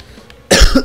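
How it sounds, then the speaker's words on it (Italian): A sudden close, loud coughing fit: a couple of harsh, explosive coughs bursting out after a quiet moment. "Infatti mi era venuto un attacco improvviso di tosse"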